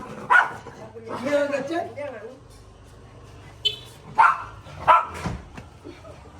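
Several dogs barking and yipping in short sharp bursts, scattered across the clip at moderate distance, mixed with people talking nearby.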